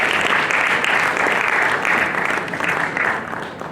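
An audience at a college entrepreneurship summit applauds loudly, a thick, continuous roar of clapping that fills the hall and eases slightly toward the end.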